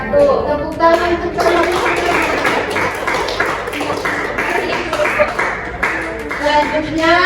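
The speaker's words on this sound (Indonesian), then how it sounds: "Tepuk tangan untuk" Students clap for a group in a classroom after its presentation, a dense, steady patter of hand claps that continues throughout, with voices talking over it.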